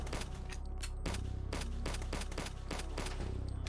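A turret fires in the retro first-person shooter HROT inside an underground level, a rapid steady burst of gunfire over a droning, noisy background.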